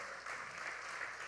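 A church congregation clapping, a brief, distant and faint patter of many hands that stays even throughout.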